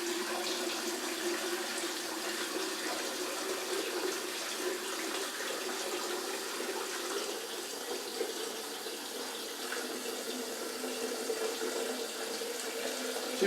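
A shower tap turned on full hot pours a steady, continuous stream of water that stays even and close throughout, with no voices.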